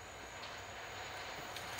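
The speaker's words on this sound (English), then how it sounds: "And here comes the train right now." A train rumbles past at a distance as a steady, low, continuous roar with a faint hiss on top.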